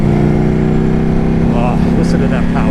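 An Indian motorcycle engine idles close by with a loud, steady, deep rumble that stays constant and heavy throughout.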